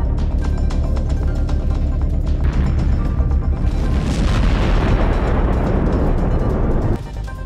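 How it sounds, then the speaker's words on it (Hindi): Ukrainian artillery explosions strike Russian tanks and troops in a field. Loud, deep booms roll continuously into one another with a sustained rumbling blast, then drop off sharply near the end. "दावा है कि यूक्रेन की आर्टिलरी ने रूस के कई सैनिकों और 3 टैंकों को सटीक निशाना लगाकर उड़ा दिया।"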